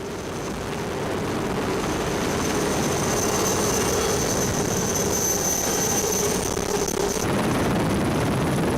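A rescue helicopter flies over the Mont Blanc mountains, its rotor and engine making a continuous broad roar that holds steady, moderately loud and without pause.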